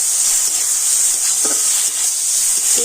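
Tomato frying lightly in oil in a pan, a steady soft sizzling hiss throughout with a couple of faint scraping stirs near the end.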